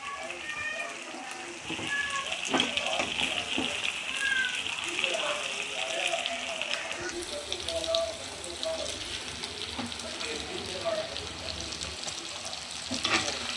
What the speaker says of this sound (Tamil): ஃப்ரை ஆகிட்டுருக்கு